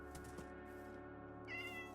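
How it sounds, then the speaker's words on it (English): A cat in the Minecraft video game meows in a short, high, tonal call near the end, over steady game background music. "Oh, we've got a kitty."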